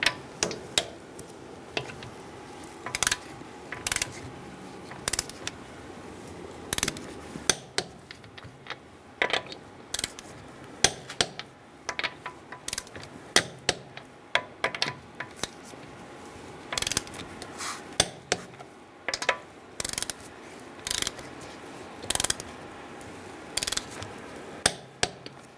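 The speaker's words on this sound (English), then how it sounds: "we are going to torque our wheels to 80 foot-pounds with a 21mm socket" A torque wrench clicks as it tightens the wheel lug nuts on a 2010-2013 Kia Soul with a 21mm socket, giving short sharp ratcheting clicks in repeated bursts, close up and with no talking.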